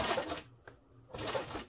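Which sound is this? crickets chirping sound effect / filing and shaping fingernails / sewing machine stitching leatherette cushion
sewing machine stitching leatherette cushion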